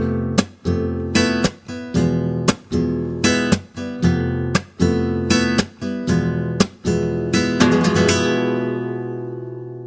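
Flamenco rumba strumming on a guitar, a driving pattern of sharp percussive string hits alternating with full thumb strums in a steady repeating rhythm, close and loud, ending on a sustained ringing chord, no voices.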